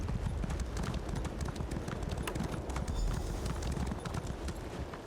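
Steady clip-clop of a horse mount galloping in the Elder Scrolls Online game, a rapid, even hoofbeat rhythm running throughout at moderate loudness.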